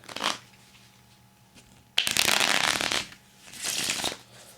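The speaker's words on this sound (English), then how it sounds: "I've got a deck over here, and I'll start out by just shuffling it up." A deck of playing cards being shuffled up close: a short riffle, a pause, then a long loud riffle and a shorter burst of flicking cards.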